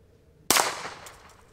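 A single sharp shot from a Walther PPK/S .22 LR pistol firing CCI Blazer ammunition, a sudden crack followed by a short fading ring, then quiet.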